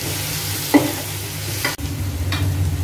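Spice mix with coriander powder stirred in a cooking pot, a steady frying sizzle with a couple of sharp scrapes and clinks of the spoon against the pot.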